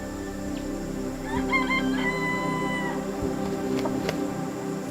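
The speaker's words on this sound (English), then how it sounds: "Those birds over there, they are the jungle fowl." Jungle fowl crowing outdoors in Singapore, a drawn-out, chicken-like crow from a bird at middle distance, rising above steady city and nature background hum.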